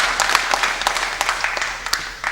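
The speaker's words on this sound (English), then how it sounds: "I want us to clap for ourselves thunderously for that achievement." A debate audience claps for itself at an afternoon event, a dense, steady wash of applause from many hands, loud and close, continuing throughout without a break.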